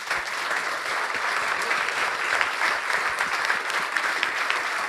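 An audience breaks into applause at a French business talk on agile adoption. The clapping is steady and dense throughout, with no voices over it.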